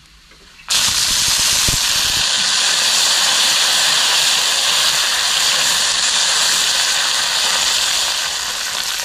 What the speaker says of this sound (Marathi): ह्या तेलातच ना बारीक चिरलेली अशी कोथिंबीर टाकायची आहे